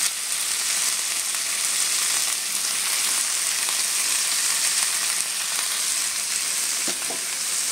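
Potatoes frying in a hot pan, a loud continuous sizzle with a brief stir or scrape near the end, close up and with no voices.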